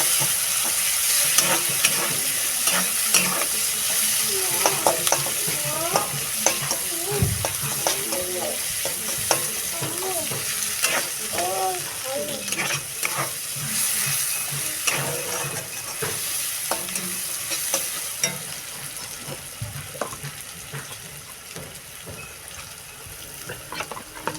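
Onions crackle and sizzle in hot oil in a frying pan, with a constant frying hiss and frequent scraping and stirring noises against the pan.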